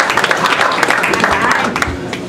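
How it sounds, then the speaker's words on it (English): Audience applause at a community meeting about a wildfire, a steady patter of many hands clapping in a hall while a voice speaks over it. "Let's hold off on the applause."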